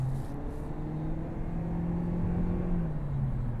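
A 2023 Toyota Prius hybrid accelerates with a steady, rising engine hum and road rumble from inside the cabin, fairly quiet and continuous with no talking.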